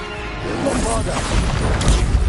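A Bombarda spell explosion from Hogwarts Legacy bursts out in a single heavy blast with crashing debris, loud and close, under a shouting voice that calls out the spell.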